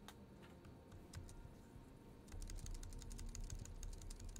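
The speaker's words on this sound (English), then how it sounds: "I just am spamming spacebar right now." Rapid, near keyboard key presses, a spacebar hammered repeatedly, the tapping growing denser and louder in the second half over a steady low hum, with no talk.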